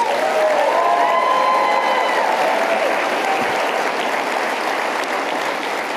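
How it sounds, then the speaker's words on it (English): A large crowd at a Turning Point USA event gives sustained applause and cheering, with steady loud clapping and a few shouts and whistles rising above it for the whole stretch. "Big applause for Turning Point USA, please."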